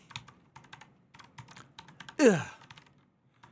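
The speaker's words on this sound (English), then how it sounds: "I can't even see what I'm typing." Clicks of a computer keyboard come in irregular bursts of fast typing, fairly close, while someone lets out a brief sigh partway through.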